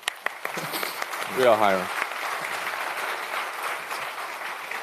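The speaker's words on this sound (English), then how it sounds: "please join me to give these two gentlemen a round of applause" Keynote audience at the MongoDB.local London 2025 conference breaks into applause, a steady wash of many hands clapping across the whole stretch, with a voice briefly speaking over it.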